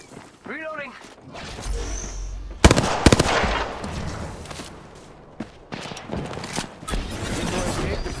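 Rapid video game gunfire in a competitive shooter match, with bursts of automatic fire and sharp single shots going off near and far among other game effects as players talk over the action.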